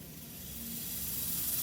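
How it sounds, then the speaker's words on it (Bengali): Pressure cooker with mutton cooking inside releases a steady, rising hiss of escaping steam close by, growing slightly louder across the short stretch with no voices. "বেশ সিটিটা উঠে গেছে।"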